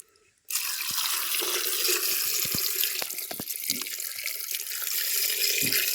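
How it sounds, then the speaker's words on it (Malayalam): Water is poured from a tap-like stream into a clay pot while preparing ripe mangoes cooked over embers in a village kitchen; a steady, close splashing flow starts abruptly and continues with small drips and clinks. "നമുക്ക് വേകാനുള്ള വെള്ളം ഒഴിച്ച് കൊടുക്കാം"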